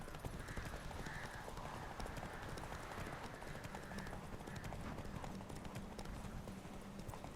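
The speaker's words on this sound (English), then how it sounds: "Oh, that's not a bad horse." Horse hooves clip-clop at a steady trot in The Witcher 3: Wild Hunt, a continuous rhythmic run with a brief whinny, carried over ambient game sound without talk.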